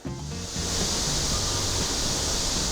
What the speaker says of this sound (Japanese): はちきれんばかりのセミの鳴き声